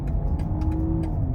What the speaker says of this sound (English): if I click sport, instantly the exhaust is a little bit louder